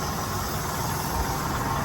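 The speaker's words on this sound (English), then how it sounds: "Kenny started his truck." Truck engine idling with an exhaust leak, a steady close rumble with a raspy hissing edge, continuous and unchanging.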